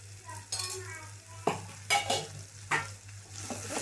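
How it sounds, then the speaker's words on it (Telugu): Alchanthakaya curry being stirred in a pan on the stove, with a steady sizzle broken by several sharp scrapes and knocks of the spoon against the pan, close by and with no talking. "బాగా కలుపుకోవాలి"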